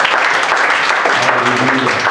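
A church congregation applauding in praise during a worship service, dense steady clapping filling the room with some voices mixed in.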